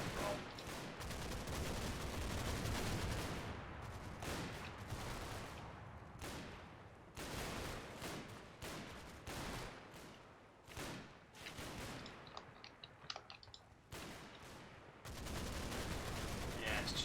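Machine gun fire in the Combat Mission: Battle for Normandy war game, heavy overlapping bursts of automatic fire broken by short gaps, fairly distant and continuous through most of the stretch.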